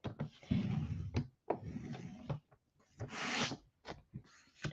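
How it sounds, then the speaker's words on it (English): Paper trimmer's cutting blade being slid aside along its track, several close scraping and rasping strokes separated by short pauses, with a few sharp clicks. "So I'm going to get my cutting blade out of the way."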